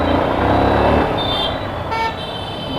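A Yamaha R15 V2 motorcycle is ridden on the road, giving a loud, steady rush of engine and wind noise that eases slightly partway through, with a brief higher tone like a horn in the background.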